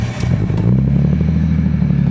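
Nissan R32 Skyline GTS-T idles close by with a new muffler, giving a loud, deep, throbbing exhaust burble with a steady rumble and slight crackle throughout.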